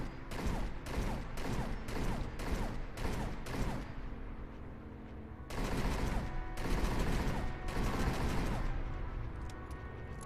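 A modded energy hand cannon in Fallout 4 firing in rapid repeated bursts, a quick string of sharp shots followed by longer sustained volleys, loud and close with no talk.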